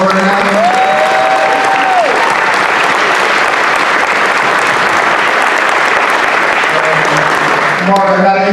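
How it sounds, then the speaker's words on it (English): Loud, steady round of applause from an audience at a basketball hall of fame induction ceremony, continuous clapping with a hum of crowd voices and scattered cheers throughout. "So if we could just give them a round of applause right now."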